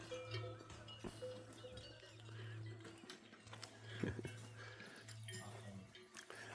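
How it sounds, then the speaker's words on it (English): Cowbells on grazing Limousin cows clank softly and irregularly in the distance of a quiet rural hillside, with faint voices in the background. "I'd be just as happy listening to the cows bells"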